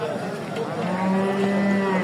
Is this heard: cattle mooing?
yes